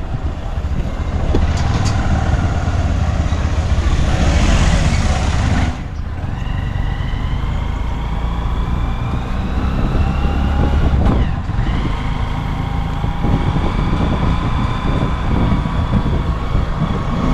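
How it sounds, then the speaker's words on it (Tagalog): Riding in a motorized tricycle: a loud, steady engine drone and road rumble fill the ride, with a brief dip and shift in the engine note partway through. "At sakay na kami ng tricycle."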